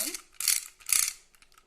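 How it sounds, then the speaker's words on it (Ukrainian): A wind-up toy's clockwork mechanism is wound in two quick bursts of ratcheting clicks, close and crisp, with faint clicking trailing off. "він у нас механічний, тобто ми його заводимо"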